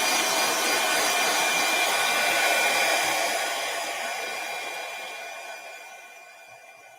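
A hair dryer blowing steadily up close on a leather craft piece, a continuous loud whoosh that gradually fades toward the end.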